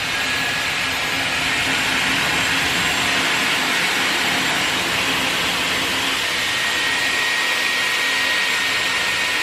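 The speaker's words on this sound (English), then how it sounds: "You move the styler towards your head without twisting, and then you're gonna hold it until the hair is dry" A Dyson AirWrap styler blows air to dry hair, a loud, steady whooshing roar with a faint high whine that holds unchanged from start to finish, with no talk.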